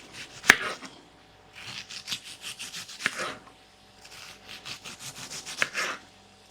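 A knife slices through an onion on a cutting board to make onion rings, repeated rasping cuts in three bursts with a sharp tap of the blade hitting the board at the start of each, close and clear.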